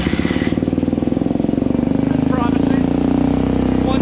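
A rider's Suzuki motorcycle idling after its carburetor was refitted, with the choke off. A close, rapid, even engine pulse with a slight rise in pitch partway through, and a voice talking over it.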